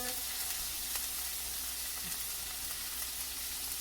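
A boneless pork chop fries in a large pat of butter in a pan, giving a steady, close hiss and crackle that runs unbroken throughout with no talking.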